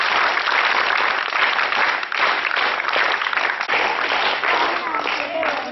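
Audience applause at a Vyshya federation event in Jagtial, a dense continuous clapping from a hall crowd that stays loud and even throughout, with no speech over it.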